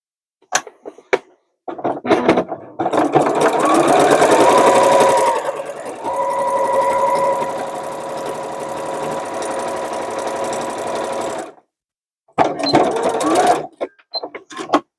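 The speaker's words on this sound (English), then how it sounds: "I'm going to get this bit sewn and show you what comes next" A sewing machine stitches down the pocket sides on a denim tote made from upcycled jeans, running in two steady close bursts of rapid mechanical whirring, with brief clicks and handling noises before and after.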